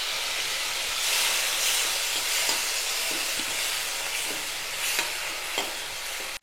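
Chopped onion and two medium tomatoes with salt sautéing in a pan, a steady bright sizzle and hiss with occasional stirring scrapes and clinks, close and continuous, no voices.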